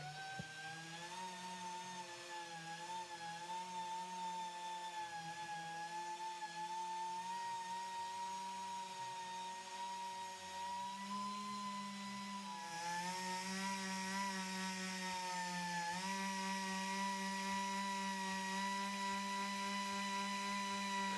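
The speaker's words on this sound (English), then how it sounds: "another central pneumatic air tool here, and I have a 3-inch backing plate attached to that one" Central Pneumatic air polisher with a 3-inch backing plate and Lake Country microfiber cutting pad buffing a vehicle's paint, a steady high whine that shifts pitch slightly under load, running continuously throughout at moderate distance with no talking.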